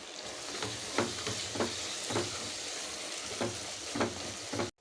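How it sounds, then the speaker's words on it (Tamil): Coriander and mint sauté with tomatoes for beef biryani, a steady sizzle with rhythmic stirring scrapes roughly every half second, and no speech. "இப்போது கொத்தமல்லி புதினா ஒரு கைப்பிடி அளவுக்கு ஒரு கைப்பிடி அளவுக்கு போட்டு அதையும் நல்லா வதக்கிக்கலாம்"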